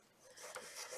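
Paper being scored at 3/8 inch on all four sides for a Valentine box, a soft dry rubbing rasp of a stylus drawn along a ruler, close and quiet, lasting about a second.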